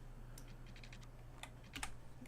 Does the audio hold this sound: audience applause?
no